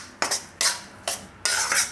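Wheat flour roasting in a pan over low gas while being stirred: four distinct scraping strokes of a spoon against the pan, close and fairly crisp, with quiet pauses between them.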